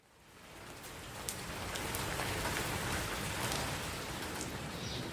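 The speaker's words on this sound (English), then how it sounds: "It's raining." Rain falls in a courtyard with a low covered veranda, a dense steady patter of drops on surfaces that swells in over the first second and then holds evenly, soft and close, with no voices.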